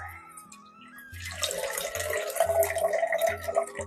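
Fresh coconut milk squeezed by hand through a cotton cloth, with liquid streaming and splashing steadily into a vessel after a quiet start, close and fairly loud, no talk.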